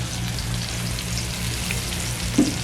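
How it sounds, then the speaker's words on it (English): Curry goat tripe sauteing in oil with curry leaves, giving a steady soft sizzle and crackle throughout, moderately quiet and close, with one small clink near the end and no talking. "I'm just going to wait for this to saute."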